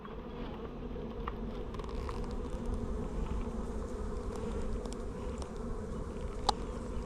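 Honey bees swarm and buzz around an open hive during a spring inspection after being moved for the summer, a steady, dense drone close by with no talking.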